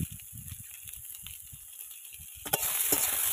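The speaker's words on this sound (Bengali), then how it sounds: "আবার একটু নাড়াচাড়া করে নেবো।" Vegetables being stirred and fried in a pan in a village kitchen, with a steady soft sizzle and repeated low scraping strokes, then a sudden louder burst of hissing near the end.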